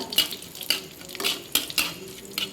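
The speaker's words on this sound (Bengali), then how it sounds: "কড়াইয়ে তেল দিয়ে দিচ্ছি তেল হয়ে গেছে জিরে দেবো গোটা জিরে তেজপাতা শুকনো লঙ্কা" Whole cumin, bay leaf and dried chili frying in hot oil in a kadai, a soft sizzle under quick, rhythmic metal scrapes and clinks of a spatula stirring about twice a second.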